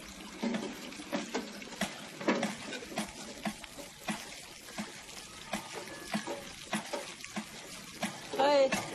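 Water pouring into a gagri water pot, a steady splashing fill broken by uneven bursts, with voices talking over it.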